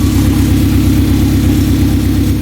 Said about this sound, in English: The car is running good.